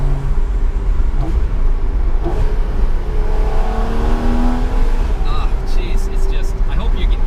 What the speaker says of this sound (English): those downshifts are just, I could do that all day long